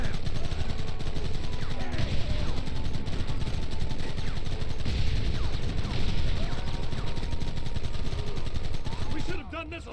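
Dense, continuous gunfire from the Red Dead Redemption video game, with rapid overlapping shots and shouting voices throughout, cutting out abruptly near the end.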